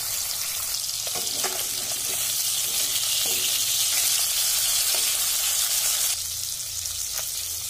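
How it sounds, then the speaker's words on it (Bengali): Rohu fish pieces fry in hot oil with a steady, loud sizzle and crackle, and a few soft clinks of a utensil come through. "তেলের মধ্যে দিয়ে দিলাম, মাছ দিয়ে দিলাম।"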